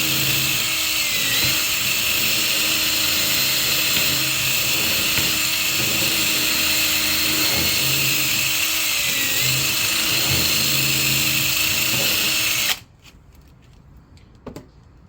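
A high-pitched power tool grinds steadily for about twelve seconds while routing out a slot for a hidden tang knife handle, then cuts off abruptly, leaving quiet room noise with a brief clatter.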